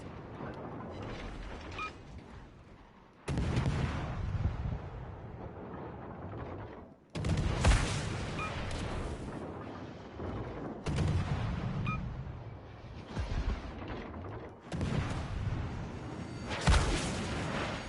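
Missile strikes and naval gunfire in World of Warships Legends, modern era: heavy booming blasts and rumbling impacts arrive in several bursts, loud and close, with mechanical clanks between them.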